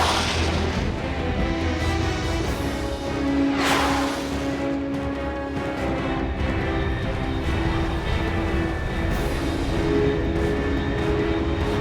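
A fast jet in the Metal Gear Solid video game, said to exceed Mach 3, roars past with a loud broad rush peaking sharply near the middle, then trails off into a sustained engine drone.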